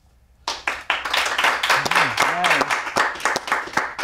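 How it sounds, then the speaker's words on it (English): A small studio audience of about five people claps and cheers for a talk show guest, a bright burst of applause that starts suddenly and carries on with scattered whoops mixed in. "Oh, that is five people who really know how to clap."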